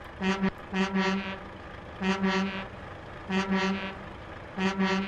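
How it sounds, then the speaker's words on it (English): Loud, deep truck air horns in a video game, Euro Truck, blasting in four separate bursts, each lasting about half a second to a second, with brief pauses between. "I'm curious to know what these air horns sound like"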